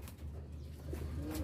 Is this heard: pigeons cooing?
yes